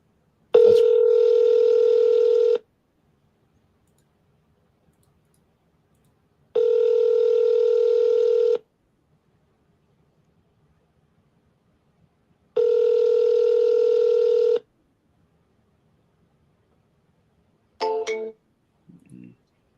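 Three long, steady telephone tones repeat at even intervals with silent gaps between them while a phone call is placed, and a short burst of clicks and noise follows the third tone.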